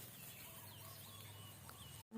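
Chickens cluck faintly at a distance in a rural Thai farmyard, soft intermittent calls over a steady low background hum.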